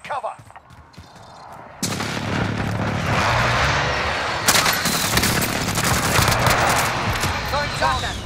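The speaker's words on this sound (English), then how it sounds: "Enemy precision airstrike. Take cover." Enemy precision airstrike in a shooter game, a sudden loud eruption of blasts and gunfire that becomes a continuous heavy roar of explosions, with a second surge partway through and a voice speaking under it.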